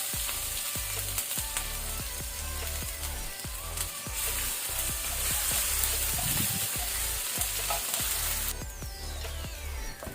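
Chopped garlic and ginger frying in a pan for chole masala, a dense steady sizzle broken by regular scraping knocks from stirring, close and continuous, no talk.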